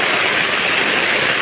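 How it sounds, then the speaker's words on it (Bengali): Heavy rain pours onto a flooded street, a steady, dense hiss that stays loud and even throughout with no voices. "সকাল থেকে প্রচুর বৃষ্টি হচ্ছে"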